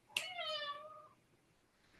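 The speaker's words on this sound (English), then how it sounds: "Sorry, my cat's hungry." A hungry cat lets out a single clear, drawn-out meow close by, starting sharply and fading over about a second into a quiet room.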